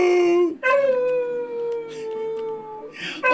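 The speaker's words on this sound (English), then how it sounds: "Oh, listen to those howls." A dog howls in long, wavering tones close by, rising and falling over a few seconds with a brief break near the start; a voice is faintly mixed in.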